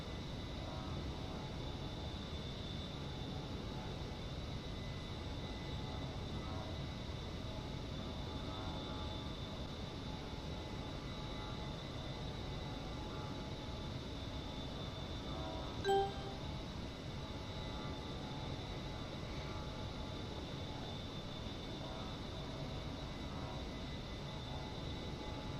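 A-10 jet engine in a flight simulator game holds a steady, continuous drone throughout, on a high ILS approach to runway 32, with one brief faint click partway through.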